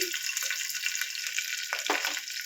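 Green chillies, curry leaves and mustard seeds fry in hot oil for a village-style chana dal and toor dal rava upma, making a close, continuous crackling sizzle with a few pops and no voices.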